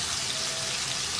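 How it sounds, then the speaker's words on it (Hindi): A tablespoon of water goes into a hot pan of spiced potatoes for a dhaba-style aloo karahi, giving a brief, even hiss and sizzle that lasts about a second with no voices. "अब इसमें शामिल कर देंगे 1 खाने का चम्मच पानी"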